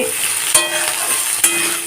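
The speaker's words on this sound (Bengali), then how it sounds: "টমেটোটাও হালকা ভাজা হয়ে গেছে" Tomatoes fry lightly in a pan with a constant, fairly loud sizzle, broken by two quick spatula knocks.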